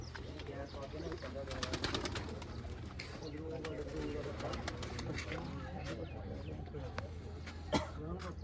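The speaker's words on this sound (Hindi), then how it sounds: "ये देखिए जी पहला कबूतर चपरों में आई है शौक की" Fancier's pigeons coo in low, repeated calls close by, mixed with wing flutters and clicks, while people talk over them and a throat is cleared.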